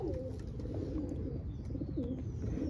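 Soft, low coos of a Dutch homing pigeon repeat a few times close by over a steady background rumble.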